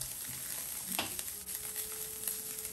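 Tofu frying in a pan over high heat, a quiet, continuous sizzle with a brief stirring scrape near the middle.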